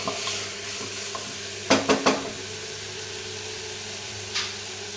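Vegetables for a kurma frying in a pan, a low steady sizzle with a quick burst of three metallic clanks from a utensil against the pan midway and another faint tap near the end, no talking.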